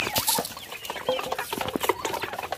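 Turkey clucking and gobbling at a village farm, a quick series of close, rough calls with other fowl noise around.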